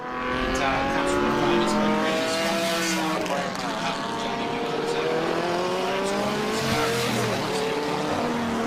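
A tribute historic racing car entered by Bob Jane runs in a regularity event on a race track, its engine rising and falling through gears as it passes nearby, with brief tyre noise and a faint voice underneath.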